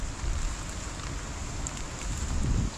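Wind gusts rumble and buffet the microphone over a steady hissing wash, swelling louder toward the end, at a vegetable farm.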